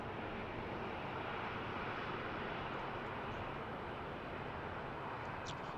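An aircraft, likely a medevac flight, passes overhead as a broad, steady roaring rumble, continuous and moderately loud across the whole stretch with no pause.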